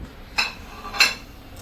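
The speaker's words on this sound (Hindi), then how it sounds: "अब इसको एक बार चारों तरफ से ऐसे मिक्स कर लेते हैं" A spoon mixing sweet gulgula batter in a bowl, giving two distinct metallic clinks against the rim over a quiet background, without voices.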